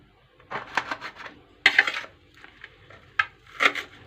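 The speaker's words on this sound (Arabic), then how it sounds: "نقطع الليمونة كمان كده" A lemon being cut with a knife on a board: several sharp clicks and taps of the blade striking the surface, with bursts of slicing and pauses between them, close and fairly loud, with no talking.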